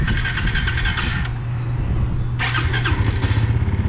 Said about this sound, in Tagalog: Start natin para ma-warm up yung motor.